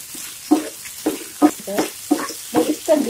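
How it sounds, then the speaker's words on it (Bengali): Beef pieces fry and are stirred in a hot pan while cooking beef chili onion, with bursts of sizzle and scraping stirs coming in rhythmic pulses every half second or so, close and fairly loud. "আমি আরো 2-3 মিনিট মাংসটা একটু ভেজে নিচ্ছি।"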